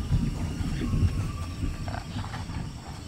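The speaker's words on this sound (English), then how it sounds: "Freaking demon pig!" Low, rough growling and snorting from a demon pig creature in the Fortnite video game, a rumbling animal-like roar with some faint mechanical clicks, moderately loud and without talk.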